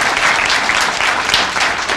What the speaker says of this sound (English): Can we give them a round of applause for their hard work?